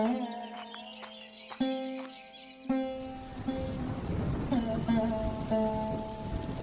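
Cartoon rainstorm with steady heavy rain hissing across the scene, a few sharp thuds and rumbles, over a sustained musical tone throughout.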